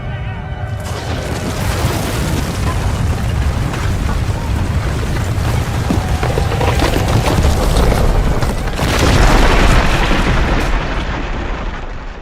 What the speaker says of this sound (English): The walls come tumbling down